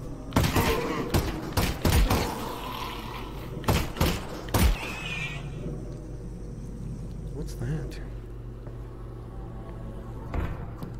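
Gunfire in the virtual reality game Half-Life: Alyx, a handful of loud, sharp bangs clustered in the first five seconds amid thuds and game sounds, then quieter ambience with one last shot near the end.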